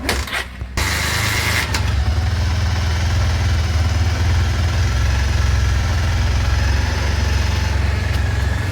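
A Bajaj Pulsar motorcycle, just repaired by a bike mechanic, starts with a brief catch and then settles into a steady, loud, close idle that runs on alone without pause.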